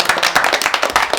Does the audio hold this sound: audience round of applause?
yes